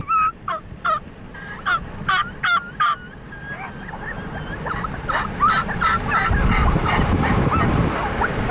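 A wild turkey gobbler on a West Virginia ridge sounds a burst of rapid gobbles, clear and fairly near, followed by a rougher flurry of calls over a growing wash of wind and background noise.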